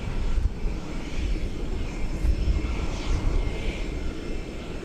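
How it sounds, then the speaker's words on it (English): American Airbus A321 airliner, Flight 420 from Denver, passing at DFW Airport at dusk, a steady broad jet roar that holds fairly loud throughout. "American Flight 420 from Denver, an Airbus A321"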